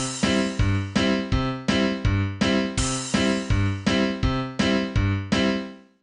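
Ragtime-style piano bass pattern alternates a low note with a chord in a steady oom-pah rhythm, about a dozen crisp, evenly spaced hits that fade out at the end, with no talking.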